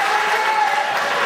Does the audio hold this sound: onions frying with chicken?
no